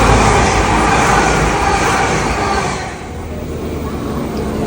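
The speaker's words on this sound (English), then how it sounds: "Here is our train." A train pulls into a station with a loud, steady rumble and roar that swells close by, then eases and settles lower as it slows, with no talking.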